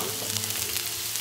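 Steady sizzling of lean red meat cooking on a hot grill at a campsite, a continuous crackling hiss with no talk, close and moderately loud.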